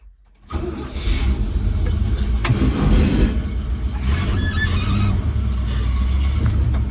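An old pickup truck's engine cranks and catches after a brief quiet moment, then settles into a loud, rough, steady run close by, with no one speaking.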